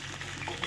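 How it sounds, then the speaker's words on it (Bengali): Potatoes sizzle in hot oil while being stirred in a kitchen, a continuous crackling fry with small scraping touches from the utensil, close and moderately loud. "আলুগুলো দেখো সুন্দর করে কিন্তু লাল লাল করে ভাজা হয়ে গেছে"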